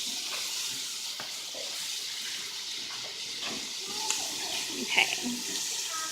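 Snap peas and corn go into a hot pan with browning mushrooms, giving a steady soft sizzle and hiss with a few faint scrapes and clinks, close and moderate in volume.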